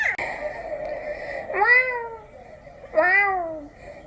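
A human voice imitates an angry cat, giving a drawn-out whine followed by two sharp, bending meows with pauses between, close and clear.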